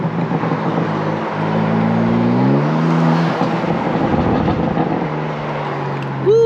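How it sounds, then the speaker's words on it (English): BMW G82 exhaust fitted with a Mad Fat Boy downpipe, revving up and down in steady engine tones, loud and close, with no talking. "just so you guys can hear the catalyst, the Mad Fat Boy downpipe"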